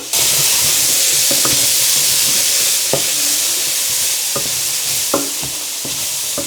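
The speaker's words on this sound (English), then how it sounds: "I just cook that for a couple of minutes until the onions have gone a little bit softer" Onions and spices frying in a pan for a Sri Lankan chicken curry, a loud continuous close sizzle with occasional clinks and scrapes of stirring throughout.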